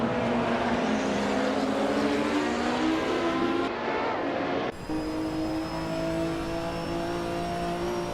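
Racing cars in a video game, including a 1977 BMW 320 Turbo, drone loudly and steadily with high engine whine and shifting pitch, several engines overlapping close by.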